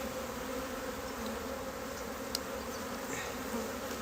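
Honey bees swarm around an open hive during a February inspection while the keeper smokes them, making a dense, continuous buzz that stays steady and close, with a brief click partway through.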